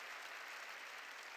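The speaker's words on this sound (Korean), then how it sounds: "깨달은 사람만 박수치라" Church congregation applauding during a sermon, a steady wash of clapping that fills the whole short moment, fairly faint and even, with no voices over it.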